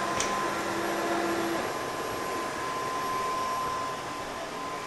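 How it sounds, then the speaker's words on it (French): A MOVA M50 Ultra wet-dry vacuum cleaner runs with a steady, close whirring hum, and a brief higher whine near the start fades as it moves on its own. "l'aspirateur laveur recule tout seul"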